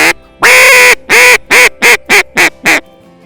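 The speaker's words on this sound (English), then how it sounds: "it's basically a series of quacks" A duck call blowing a hen call sounds one long drawn-out quack, then a quickening series of shorter, loud quacks, close and clear, with nothing else heard.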